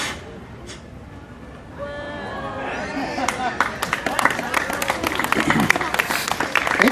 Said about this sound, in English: you're clapping and everything.